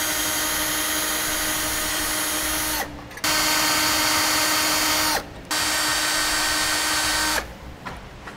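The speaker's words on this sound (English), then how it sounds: "There's 3 spot welds that we need to drill out." A power drill bores out spot welds on the frame of a 2002 Honda CR-V, whining loudly and steadily in three long runs separated by brief pauses.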